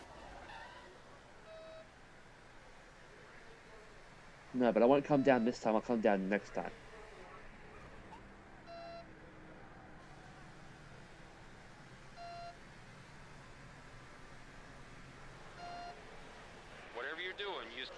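In a NASCAR racing video game, a faint warning beep repeats at regular intervals under a bright engine-like burst and someone talking.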